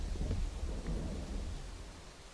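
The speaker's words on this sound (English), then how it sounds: "we can get rid of the stupidly loud thunder" Loud rolling thunder from a Minecraft thunderstorm, a deep continuous rumble with crackling bursts that slowly eases over a couple of seconds, heard alone with no voices.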